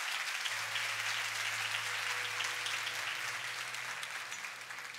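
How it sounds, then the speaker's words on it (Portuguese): Soft, distant applause from a church congregation, a continuous patter of many hands over a low held keyboard tone, fading slightly toward the end. "Isso merece uma salva de palmas, tá?"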